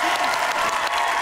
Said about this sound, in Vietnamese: Vỗ tay, vỗ tay.